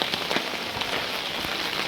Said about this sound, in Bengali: প্রচুর বৃষ্টি হচ্ছে, তাই আমি বেরিয়েছি ছাতা নিয়ে